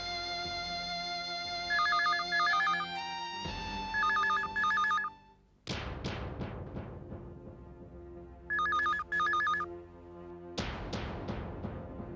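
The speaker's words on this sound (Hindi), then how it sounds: "फोन नहीं उठा रहा है सोनू।" A telephone rings on and off with no one answering, bright electronic trills repeating in bursts over a dramatic music score, fairly loud and close.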